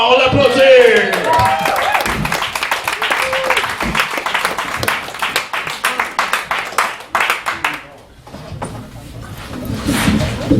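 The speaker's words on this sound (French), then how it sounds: "Monsieur Yvon Jean, on l'applaudit!" A live comedy-show audience claps in a loud, dense burst with some cheering, dipping briefly before picking up again, while a voice speaks over parts of it.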